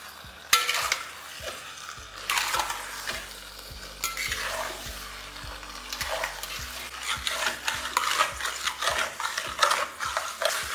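Mutton fries on a high flame in a pot, a busy sizzle broken by repeated scraping, clattering stirs of a spoon against the metal, close and fairly loud.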